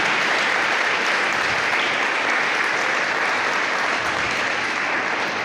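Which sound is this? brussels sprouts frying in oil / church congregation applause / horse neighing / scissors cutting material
church congregation applause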